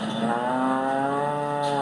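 A dairy cow on a rural Maryland creamery farm lets out one long, loud, close moo with a steady tone that bends slightly toward the end.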